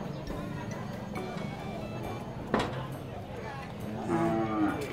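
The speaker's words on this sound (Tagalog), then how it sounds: "Ang ganda rin ng mga kalabaw na nabili niya." Water buffalo (carabao) mooing at a crowded livestock market, a low moo rising out of steady crowd chatter and background noise.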